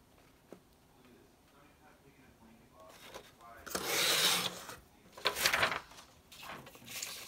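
A paper trimmer slices through cardstock in two short, close rasping cuts, each a quick sliding scrape after a quieter stretch of handling.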